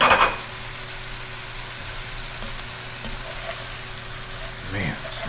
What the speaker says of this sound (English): it's now time to add our vegetables. Let's just get these in here like so.